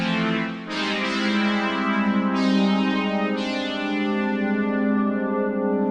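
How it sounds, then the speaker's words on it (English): A bright, buzzy sawtooth-wave synth tone from an Arturia Mini V3 Minimoog emulation, with a gritty, edgy timbre, sustained with a few fresh note attacks, played alone and fairly loud. "Saw wave, which has a little bit of bite to it, a little bit more than a sine wave."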